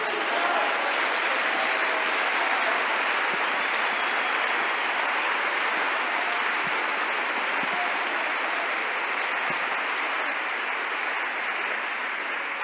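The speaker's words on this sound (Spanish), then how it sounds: "dele un aplauso al Señor." A church congregation claps together during a Spanish-language sermon, a broad, even wash of applause that holds steady and fairly loud from start to finish with no pauses.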